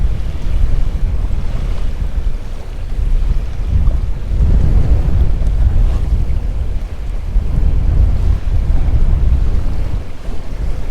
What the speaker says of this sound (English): Hopefully you can hear me over these waves